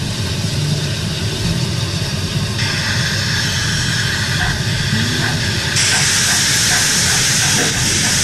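Loud, steady hiss of steam with a continuous mechanical rumble, growing brighter and louder partway through, like a steam locomotive working nearby.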